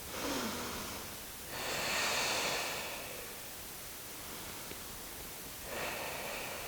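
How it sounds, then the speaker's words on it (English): Deep, slow breaths during a home stretching exercise: three long, airy inhale-exhale swells, close and fairly loud, with quiet pauses between them and no speech. "Take some deep breaths."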